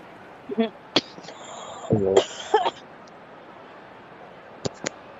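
A couple of short coughs or throat clears amid crowd noise from an eFootball video game match, with a brief voice and a few sharp taps later.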